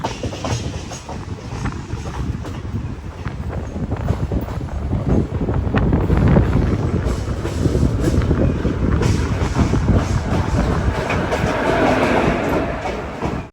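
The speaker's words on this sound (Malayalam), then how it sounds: "ട്രെയിൻ ഇതാ പാലക്കാട് ജംഗ്ഷൻ റെയിൽവേ സ്റ്റേഷനിലേക്ക് എത്തിക്കൊണ്ടിരിക്കുകയാണ്" A train arriving at Palakkad Junction railway station rumbles steadily along with a heavy, continuous low roar, wheels clattering and wind buffeting the microphone throughout.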